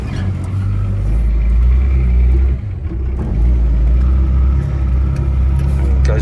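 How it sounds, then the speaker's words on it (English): A 1981 Datsun MQ Patrol with an SD33 diesel and four-speed gearbox rumbles steadily up close as it is shifted through the gears without the clutch, the engine note dipping briefly mid-shift before pulling on again. "Goes through the gears without the clutch."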